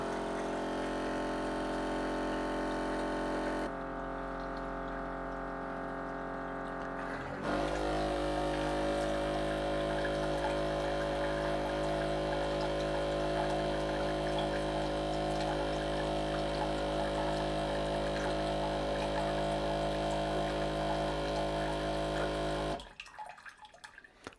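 A countertop water filter pump runs with a steady, close whirring hum. It steps up to a fuller, louder drone after several seconds and carries on evenly, then cuts off near the end.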